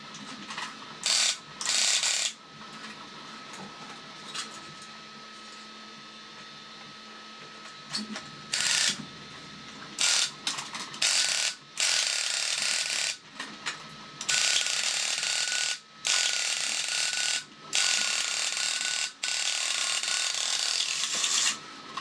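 The small motor of a vintage Space Robot X-70 tin toy strains as it closes the tulip head, heard as a faint steady whir broken by repeated bursts of ratcheting gear clicks, some brief and some several seconds long.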